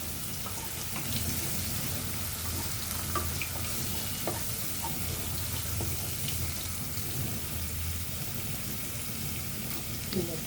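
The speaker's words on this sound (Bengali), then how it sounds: "এগুলো ভালোভাবে আমি কষা কষে নিব" Green chilies frying in a pan with cinnamon and other whole spices for a fish curry, a soft steady sizzle with occasional light spatters and stirring taps, quiet throughout.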